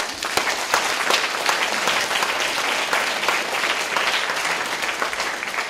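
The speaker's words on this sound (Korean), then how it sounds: "굉장히 멋진 안지사님 박수 한번 보내드립니다" A live audience at a Korean civic lecture event claps steadily for the featured guest, a provincial governor, producing a dense, sustained wash of applause that stays loud and even throughout, with no talking over it.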